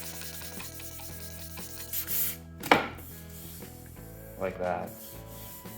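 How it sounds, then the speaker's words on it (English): A wooden cutting board gets a light pass with 400 grit sandpaper, giving a few short, soft rubbing strokes that rise and fade against a quiet background, with a brief spoken remark. "we just got to go over it lightly with our 400 grit again"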